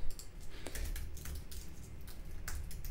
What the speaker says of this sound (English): I'm typing and it's hard